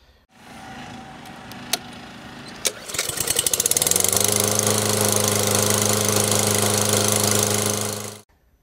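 After troubleshooting, a lawn mower engine is pulled to start: a couple of clicks, then a sputtering catch into a loud, steady running drone that holds for several seconds before cutting off, with no talking.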